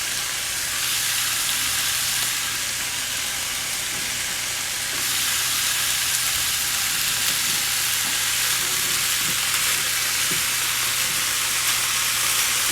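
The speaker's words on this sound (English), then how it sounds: "I'm just going to fry this in until it becomes nice and brown" Pork ribs fry in a hot pan, a loud, dense, steady sizzle that hisses without a break for over twelve seconds, close up, with no voice over it.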